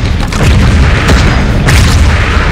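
Loud, booming shotgun blasts in the game Wall World, a couple of heavy shots with rumbling low end and chaotic background action, no talking.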